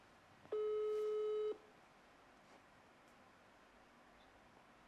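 A single electronic ringing tone plays over a phone line for about a second, followed by quiet hiss.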